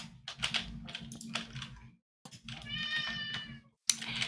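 A house cat meows several times indoors, the clear, high calls rising over the close clatter of a computer keyboard being typed on, with short silent gaps between bursts.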